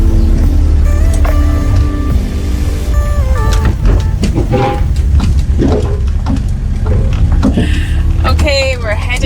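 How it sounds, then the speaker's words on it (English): Several car engines idle and rev in an enclosed space aboard an undersea train from the UK to France, a steady low rumble with clunks and beeps, while people talk over it. "people are turning on the engines"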